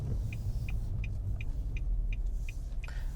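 A 2021 Nissan Maxima SR, a 300-horsepower front-wheel-drive sedan in sport mode, accelerates with a steady, loud low engine rumble and a faint, regular ticking above it.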